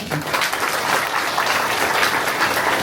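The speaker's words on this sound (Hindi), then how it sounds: "तो एक बार इनके लिए जोरदार तालियां।" Sustained, dense applause from a crowd at a satsang gathering in Ghaziabad, a steady wash of many hands clapping together at an even level throughout.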